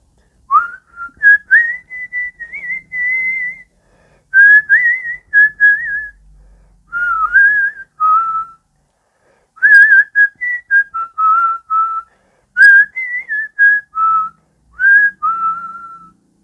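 A clear, melodic whistle carries a tune in phrases separated by short pauses, close and loud with nothing else behind it.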